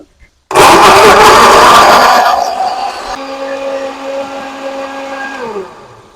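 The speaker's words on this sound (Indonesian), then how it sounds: "kita blender bumbu sambal baladonya" A kitchen blender grinds balado chili sambal spices, starting abruptly with a loud, dense whir that eases into a steadier, tonal motor hum as the mixture smooths out, then stops near the end.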